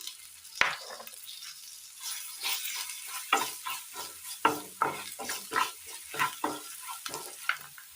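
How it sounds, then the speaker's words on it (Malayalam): Onions sautéing in a pan, close and crisp, with repeated stirring strokes and spoon scrapes against the metal over a light steady sizzle. "ഉള്ളി വഴറ്റിയിട്ട് കൊടുക്കാം."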